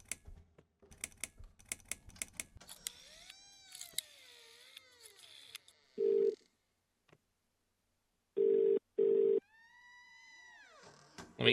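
A telephone rings in the horror video game The Cat Lady, sounding in three loud, steady electronic tones of about half a second each, spaced by silence, amid game sounds including cat meows and keyboard-like clicking.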